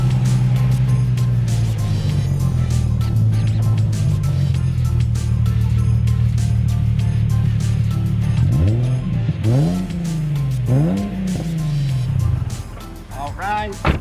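A blue Nissan 350Z rumbles at low, steady engine revs while pulling into a parking lot, followed by a few sharp blips and swells of the engine near the end, heard from close by.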